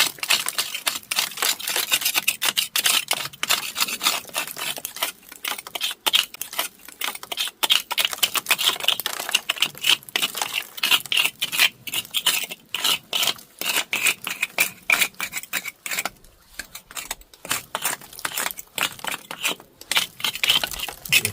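Old mortar joints in a wall being scraped out by hand ahead of lime repointing: a continuous dry, gritty rasping of close, dense strokes with brief pauses, and no talking.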